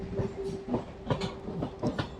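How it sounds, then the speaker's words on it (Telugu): MEMU train pulling into Wanaparthy Road station on the Kacheguda–Raichur line, a faint rhythmic clickety-clack of wheels over rail joints with a low steady hum, no voices. "వనపర్తి రోడ్ రైల్వే స్టేషన్కి మన ట్రైన్ చేరుకుంది."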